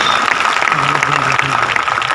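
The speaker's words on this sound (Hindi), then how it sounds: "एक बार उनके लिए जोरदार ताली होनी चाहिए।" An audience applauds, a steady wash of clapping from many hands that stays even and fairly loud over a brief stretch, with a voice faintly underneath.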